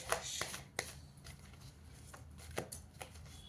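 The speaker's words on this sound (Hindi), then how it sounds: "अच्छे से कार्ड्स को सफल कर लेती हूँ।" Tarot cards being shuffled by hand, quiet papery riffles and soft slaps in short bursts, close but faint, with no talking.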